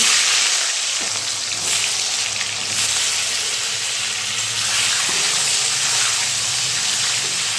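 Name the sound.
potatoes coated in salt and turmeric frying in hot mustard oil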